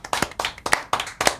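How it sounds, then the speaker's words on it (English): A small group claps in a quick, uneven burst of hand claps after a PAX West recap. The sound is close and fairly loud, lasts only a moment and carries no talk. "Round of applause for us."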